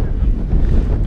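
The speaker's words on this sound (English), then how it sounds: "Wind's picked up." Wind gusting steadily across an exposed mountain trail on the Stiperstones ridge, a loud, continuous low rumble buffeting the microphone with no break and no talking.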